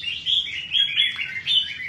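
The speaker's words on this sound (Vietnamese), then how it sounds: "Chim nó đang phơi, đang yên lành thì để nó yên đi." Caged pet birds, kept and cared for at home, give a continuous series of sharp, high chirps and tweets, nearby and clear with no talking.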